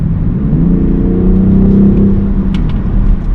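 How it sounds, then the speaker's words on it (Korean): Engine sound generator of a BMW X6 M50d heard inside the cabin under acceleration: a loud, steady, rising drone that holds for several seconds, with no talking. "이렇게 내부적으로 들러오는 사운드 제네레이터"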